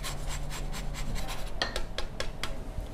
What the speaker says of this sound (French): Je vais râper le zeste de citron jaune.